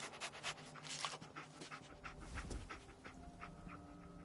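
A dog pants steadily in Fallout 4, quick rhythmic breaths close by over a low game ambience, with no talk.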